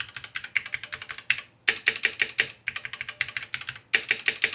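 Typing on a mechanical keyboard with red switches, Cherry MX or Gateron, on a Corsair K65 or Womier K66: close, crisp key clacks in quick bursts with short pauses between runs, alone.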